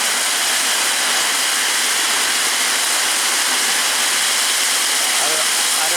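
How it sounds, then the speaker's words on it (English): Marble-size hail pounding a metal awning during a thunderstorm with strong wind, a dense, continuous roaring clatter that stays loud and steady throughout with no pauses. "it's coming down so hard it's ended up my awning up there"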